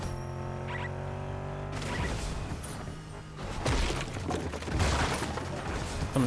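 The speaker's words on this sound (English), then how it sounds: "Sounds like they're shooting in sus studios" Gunfire in the Fortnite video game, bursts of rapid shots and impacts in the middle distance over game ambience, growing louder toward the end.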